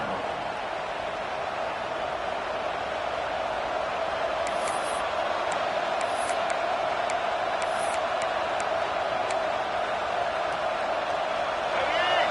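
Football stadium crowd cheering on a third down in the red zone, a constant loud roar with faint whistling bursts near the middle, sustained without pause and with commentary over it.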